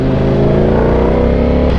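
A Ducati 1100cc V4 motorcycle rated at 216 bhp roars loud and near, its engine held at a high, steady growl for a couple of seconds with no talking.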